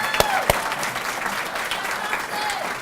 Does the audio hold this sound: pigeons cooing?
no